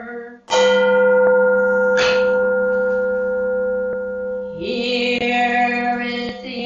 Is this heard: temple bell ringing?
yes